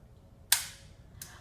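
One sharp, close gunshot crack with a brief echo, then a fainter second report a moment later.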